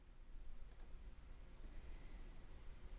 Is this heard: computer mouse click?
yes